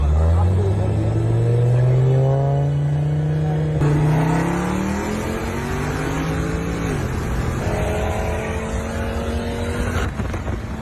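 A stock Mercedes C63 and an Audi RS3 accelerate hard in a second-gear roll-on, their engine notes climbing loudly and close. A gear change drops the pitch before the revs rise again.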